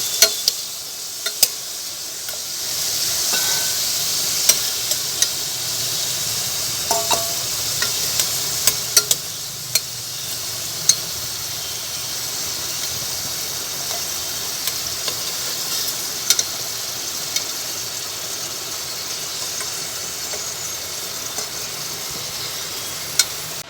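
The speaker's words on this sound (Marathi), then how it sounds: "आपण त्याच तेलामध्ये गवार परतून घेऊ" Cluster beans and potatoes fry in oil with a long, steady hissing sizzle, scattered sharp pops and ticks breaking through at irregular intervals.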